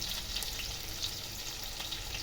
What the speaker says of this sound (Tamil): இது தாளிக்கிறதுக்கு கொஞ்சம் வெங்காயம் போட்டுக்கிடுவோம்